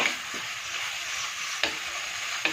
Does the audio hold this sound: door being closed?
no